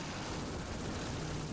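Dense, continuous gunfire in the World War II strategy game Call to Arms - Gates of Hell: Ostfront, a steady loud wash of overlapping shots and distant battle rumble with no clear pauses.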